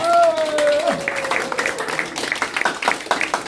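An audience at a press conference of Christian reserve officers claps in a loud, scattered round of applause that builds after a brief opening tone. The clapping carries on to the end with irregular, sharp hand claps.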